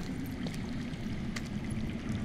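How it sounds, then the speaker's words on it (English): Underground water flowing in a video game, heard as a steady, fairly quiet rushing wash with a low churning body and no voices. "I hear water. From underground."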